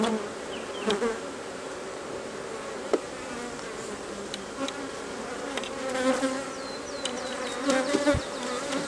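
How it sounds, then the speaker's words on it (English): Honey bees hum in a dense, steady swarm at an open hive during a smoked frame inspection, with scattered clicks and knocks of hive handling over the close, continuous buzz. "Smoking these bees."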